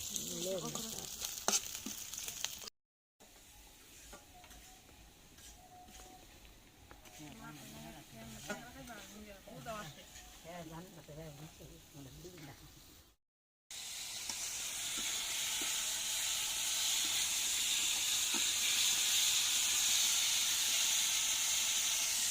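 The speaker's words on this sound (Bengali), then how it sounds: "এই যে সব কিছু একসাথে ভাজি করে তারপরে যে এখানে টাকি মাছ রাখছে" Spices with bay leaf and chopped ginger fry in a pan for a taki fish bhorta, a steady sizzling hiss that grows louder and fills the latter half, with voices talking over the earlier part.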